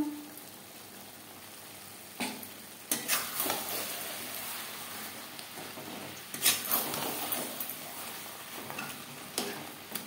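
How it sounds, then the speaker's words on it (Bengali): Mutton for a traditional Bengali potato-and-mutton curry sizzles steadily in a pan over high-to-medium flame, broken by several louder bursts of stirring and scraping. No voices are heard. "মাংস বেশ ভালো করে কষিয়ে নেব।"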